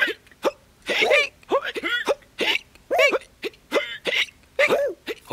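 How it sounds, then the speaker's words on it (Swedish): Sung hiccups in a playful children's song: a rhythmic string of short, sharp vocal hiccup yelps in quick succession, performed by voice rather than real hiccups, with no instruments prominent. "Alla hade hicka."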